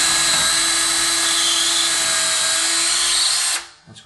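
A power drill bores pilot holes into a hardwood floor, running loud and steady and close for about three and a half seconds before cutting off abruptly.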